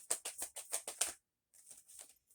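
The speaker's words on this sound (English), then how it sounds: "I keep shuffling and getting cards" A deck of tarot cards is shuffled in a string of quick, crisp riffling bursts, then a pause and a few softer shuffles, close and quiet with no talking.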